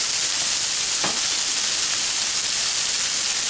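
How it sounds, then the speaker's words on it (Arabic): A garlic clove fries with onion in a pan, a steady loud sizzle and hiss with a brief stir or crackle near the start, continuous and close with no talk. "يستعملوا واحد الفص ديال الثوم ويديروه يتشحن مع البصله"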